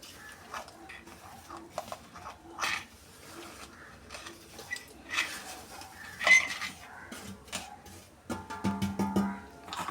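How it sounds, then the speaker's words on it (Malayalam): Roasted coconut spice mix spooned into a mixer grinder jar for a Kerala-style fish curry, with scattered clinks, scrapes and taps of a spoon against the jar, irregular and close, with a louder clatter near the end. "തേങ്ങാക്കൂട്ട് ഞാൻ മിക്സിയുടെ ജാറിൽ ഇട്ട് കൊടുത്തിട്ടുണ്ട്."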